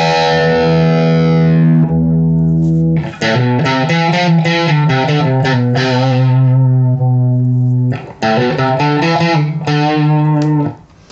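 Electric guitar through a mystery amplifier with a modulation effect switched on, playing sustained distorted chords in two long phrases with a short pause between them, loud and close with no talking.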